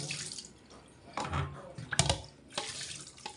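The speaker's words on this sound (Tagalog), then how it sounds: "Kami po ay nag-iigib lamang sa bomba." Water is drawn from a hand pump in bursts, splashing and gushing into a container with short pauses between strokes, fairly close and without talk.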